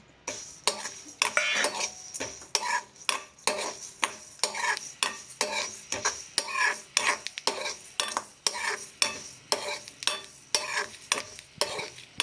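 Cumin and fennel seeds dry-roasting in a pan, stirred with a spatula in steady scraping strokes that rattle the seeds against the metal, a close, rhythmic scrape repeating about once per second with no one talking.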